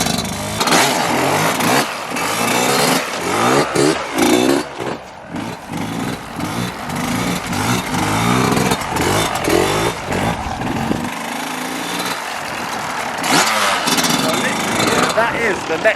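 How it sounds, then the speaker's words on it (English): A dirt bike engine revs up and down as the rider circles, loud and close for the whole stretch, with the throttle swelling and easing in uneven surges. "just listen to the throttle when I do a circle"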